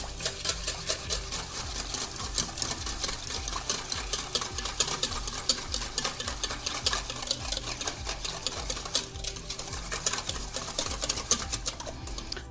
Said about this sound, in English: And I'm gonna whisk it all together.